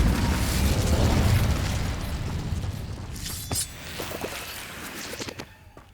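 An Incendio fire spell cast in Hogwarts Legacy gives a loud, dense burst of roaring flame and blast that fades over several seconds, with a few crackling pops near the end.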